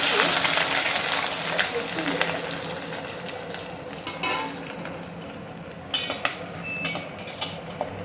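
Onion pieces fry for a fish curry with a continuous sizzle, mixed with stirring scrapes and clinks against the pan, while someone talks over it.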